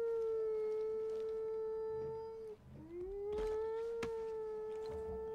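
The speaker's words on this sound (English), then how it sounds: "Why are you howling?" A wolf in the video game Far Cry Primal lets out a long, steady tonal howl that dips briefly and rises again, prominent over a quiet game background with no talk.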